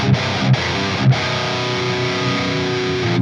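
Distorted electric guitar through Mesa Boogie cabinet impulse responses, Modern Standard and oversize Big C cabinets: a thick, saturated riff with a few palm-muted chugs, then a sustained chord ringing out loud and dense.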